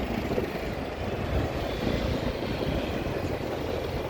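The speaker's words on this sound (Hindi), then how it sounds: "बहुत सारी गाड़ियाँ यहाँ पे चल रही हैं" Traffic on a busy road in Garhwal, India, heard as a steady, broad roar of passing vehicles that runs continuously at a moderate level, with no talking.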